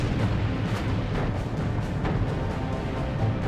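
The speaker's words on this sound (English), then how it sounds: "Destroyer USS Laffey closes in alongside battleship Hiei and rakes her decks with rapid-fire 5-inch shells and machine guns." Naval battle between destroyer USS Laffey and battleship Hiei, with rapid-fire 5-inch shells and machine guns; a dense, continuous roar of heavy booming gunfire and rumbling blasts fills the whole stretch without pause.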